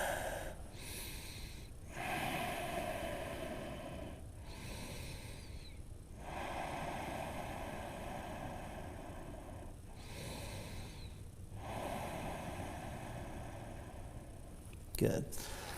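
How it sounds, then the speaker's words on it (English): Slow, audible breaths during a strong yoga flow class, long airy inhales and exhales in a steady cycle of roughly two-second swells, close and soft, ending with a brief sharp knock. "And breathe."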